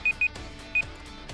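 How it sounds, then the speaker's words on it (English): A short electronic buzzer tone in an Arknights fantasy league stream, sounding three times as brief, evenly pitched beeps, two close together and a third after a pause, over a steady background. "The buzzer sounds"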